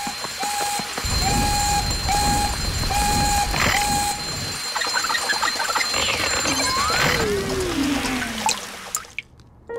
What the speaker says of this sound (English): You don't mind if we turn off the alarm, do you?